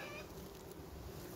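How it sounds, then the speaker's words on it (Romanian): Steady buzzing of honeybees at a beehive during a sparse nectar flow, with guard bees flying slowly, a dense continuous hum close by with no talk. "albina zboară încet, încet și apar aceste albine gardieni"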